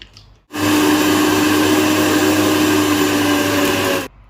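A kitchen mixer whirs loudly as it blends garlic into a sandwich spread, one steady, high-pitched grinding run of about three and a half seconds that starts and stops abruptly.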